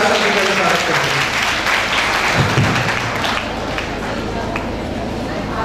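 Applause fills a hall at a school women's education and safety event in Amroha, a dense, steady clatter of many hands that eases off slightly toward the end, with voices mixed in.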